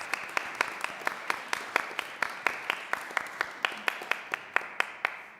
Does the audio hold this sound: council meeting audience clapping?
yes